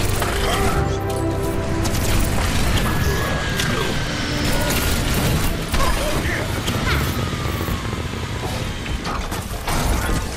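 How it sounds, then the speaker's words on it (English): Overwatch dropship arriving for a mission in a game event: a loud, continuous mechanical roar with creaking, rattling and clanking metal, dense rumble throughout, with game voices talking over it. "Dropship is en route to the clock tower."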